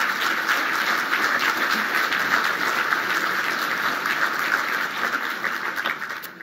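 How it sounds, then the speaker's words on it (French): A roomful of guests at the 2022 annual gala dinner of the IRCM Foundation applauds in a thick, continuous wash of clapping that holds steady throughout at a moderate level. "quand j'entends vos applaudissements"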